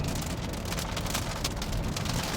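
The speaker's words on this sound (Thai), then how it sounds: "เดี๋ยวเรามาทดสอบการฟังเสียงฝนกันนะครับว่า เก็บเสียงฝนได้ดีหรือเปล่า" Rain falls on a Zeekr X electric car as a steady, dense hiss of drops drumming on the body, constant and fairly loud, with no talking.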